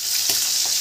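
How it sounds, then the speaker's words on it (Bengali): Chicken breast pieces fry in hot oil in a home kitchen pan, giving a steady close hiss of sizzling with a couple of soft stirring scrapes, no voices. "মা এই ব্রেস্ট পিসগুলো ভেজে নিচ্ছে"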